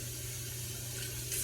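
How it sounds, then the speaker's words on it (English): Water from a tap rinsing a batch of sprouts, a steady close hiss of running water that swells slightly at the end, with no talking. "I'm going to go ahead and rinse them."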